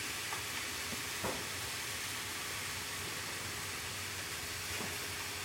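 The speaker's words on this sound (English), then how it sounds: "next up, we're gonna add the rice. Again, more oil for the rice." Rice and oil sizzle on a Blackstone griddle, a steady, fairly quiet frying hiss with a few faint clicks, and no voices.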